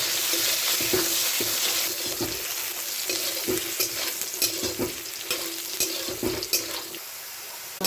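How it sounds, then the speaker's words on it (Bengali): Potatoes with salt and a little turmeric fry in a pan, a constant near sizzle punctuated by regular scraping stirs and utensil taps against the pan, no voices. "আলুটা এখন ভেজে নেব।"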